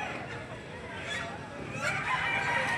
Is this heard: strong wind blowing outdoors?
no